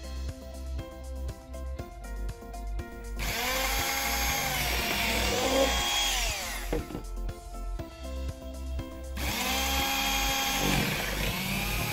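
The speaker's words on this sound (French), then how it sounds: "Le ciseau Razor Optima 702 électrique à forte puissance est destiné à couper toutes sortes de textiles industriels et élastomères jusqu'à 15 mm d'épaisseur." Rasor Optima 702 high-power electric shears for industrial textiles and elastomers run in two loud bursts, each starting with a steady motor whine and then a harsher cutting drone, separated by short pauses.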